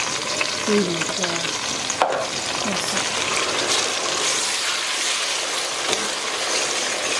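Chopped onions fried golden brown in oil for a broccoli and butter bean stew, with tomato added and stirred in, giving a steady close sizzle and scraping along with a few faint knocks.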